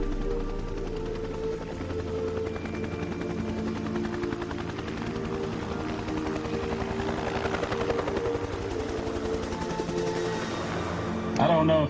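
Helicopter rotor blades from the Vietnam era thump in a steady, continuous whop under a loud, dense mechanical roar that stays constant throughout, with a brief louder burst at the very end.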